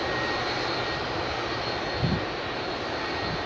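Aircraft engine roaring loud and steady as a plane departs from Heathrow's Northern Runway 09 left, a constant broad rumble with no voices.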